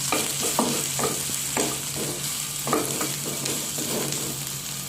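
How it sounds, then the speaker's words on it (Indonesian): Shallots stir-frying in a little oil in a hot wok, a steady sizzle broken by a series of scraping spatula strokes, close and clear with no voices. "Untuk bawang merahnya ini saya tumis dulu"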